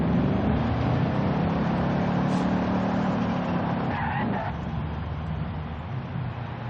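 An Audi RS 6 in Forza Horizon 5 roars under hard acceleration, with a loud, continuous engine drone and a brief tire squeal partway through, the sound easing slightly toward the end.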